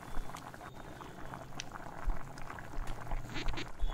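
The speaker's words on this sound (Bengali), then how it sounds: "কিছুক্ষণের জন্য একটু ফুটিয়ে নেব।" Bengali-style mutton kasha bubbles gently in a pot after half a cup of water is added, a soft continuous simmer with irregular small pops and gurgles, close and fairly quiet, with no talking.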